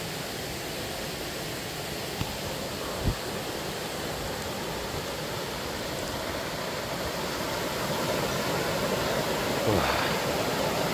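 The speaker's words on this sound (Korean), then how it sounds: "물소리, 계곡 물소리" A mountain valley stream flows through a mossy forest on Gariwangsan, a steady broadband rush of water that stays even and fairly close, with a couple of faint clicks and no voices over it.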